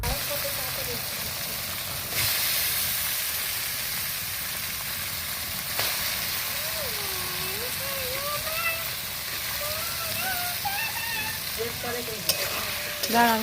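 Spice paste and chicken meat fry in a pan while being stirred, a continuous sizzling hiss with stirring scrapes, and people talk faintly in the background.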